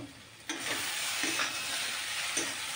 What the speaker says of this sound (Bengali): এভাবে কিছুক্ষণ কষাবো আমি